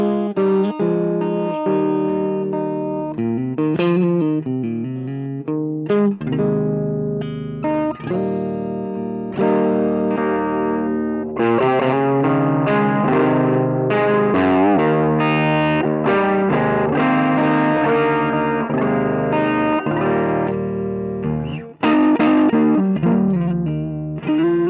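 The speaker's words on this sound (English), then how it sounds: "That edge of breakup sound, that's how I've most used this pedal, but it's really creative." An electric guitar played through a Vertex Tone Secret Tube Screamer-style overdrive pedal set at the edge of breakup, with lightly crunchy, touch-sensitive chords and single-note phrases ringing out alone and clearly for about twenty-five seconds.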